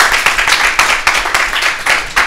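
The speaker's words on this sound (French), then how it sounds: "Applaudissez pour vous l'accueil." Brisk applause for the hostesses at a club night in Lyon, a crowd clapping close and continuous with uneven rhythmic surges for a couple of seconds.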